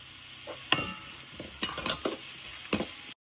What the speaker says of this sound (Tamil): கொஞ்ச நேரம் அப்படி நல்லா கிண்டி விட்டோம்னா எண்ணெயில் வதங்குற வரைக்கும் நம்ம வெயிட் பண்ணணும்.